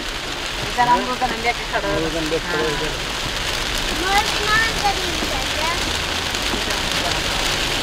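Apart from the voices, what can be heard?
heavy rain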